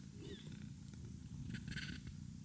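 A feral cat purrs with a soft, steady, low continuous rumble, very quiet and close, with a few light incidental noises and no talk.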